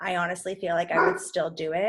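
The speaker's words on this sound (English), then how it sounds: "Sorry, that is my dog." Someone talks while a dog gives short yipping barks and whimpers close by, mixed in with the speech for about two seconds.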